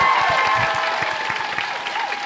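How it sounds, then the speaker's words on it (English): Audience applause fills a crowded room, a dense, even wash of clapping at steady volume, with a faint tone in the background and no voices standing out. "Once again, another round of applause."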